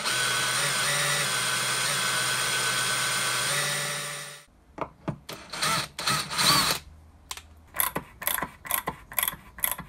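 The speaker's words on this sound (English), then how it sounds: "So let's get these holes tapped." Drill press tapping M5 threads into holes, a steady mechanical whir that stops, then a series of short, close ratcheting and gear-like bursts in rapid succession.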